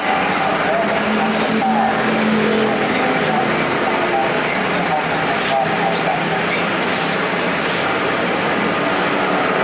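Factory stock race cars running side by side in a main event at Perris Auto Speedway, a steady loud roar of engines filling the whole clip with an announcer talking over it.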